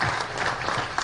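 An audience at a national nutrition platform event claps hands in a brief, dense burst of applause filling the room, steady and fairly loud.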